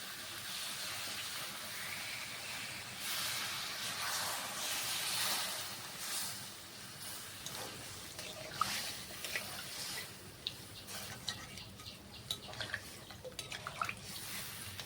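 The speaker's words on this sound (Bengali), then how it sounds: "জল দিয়ে দিচ্ছি আমি" Water poured into a pan of fish and pointed gourd gives a soft, steady splash and gurgle, followed by quieter bubbling and scattered drips and clinks, faint overall.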